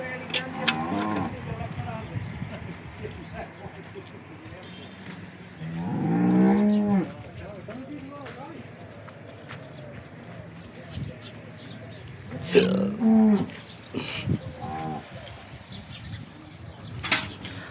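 Local Banaskantha cows in a small dairy herd of twelve, one freshly calved, give two loud, drawn-out moos several seconds apart, with people talking nearby throughout and faint farmyard background noise.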